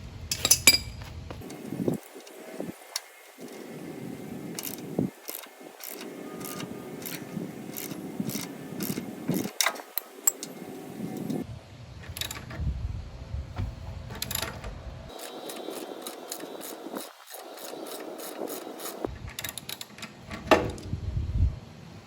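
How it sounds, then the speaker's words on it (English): Crescent wrench and socket set working a rusted nut and bolt off a 48-inch SCAG mower mulch baffle attachment: a long run of sharp metallic clicks and ratcheting taps in irregular bursts, close and alone. "I'm going to use a crescent wrench to hold the nut inside with a socket set on the bolt outside"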